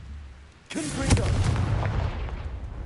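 The Confringo fire spell in Hogwarts Legacy bursts out with a sudden loud boom, then a crackling, rumbling fiery blast that stays loud and close for the rest of the moment.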